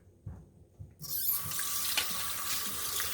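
A tap turns on and water runs steadily into a sink while a mop part from a Yeedi robot mop station is rinsed, preceded by a few soft handling knocks, no talk.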